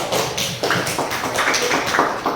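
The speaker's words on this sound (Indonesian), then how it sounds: "sekali lagi berikan aplaus untuk kelompok 3" A student group in a classroom gets a brief, fairly loud burst of applause. Many hands clap together in a dense, continuous patter with no voices heard.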